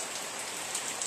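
Rain pours steadily on an outdoor work site with hard ground, a close, bright patter of drops that stays constant with a few slightly louder splashes and no talking.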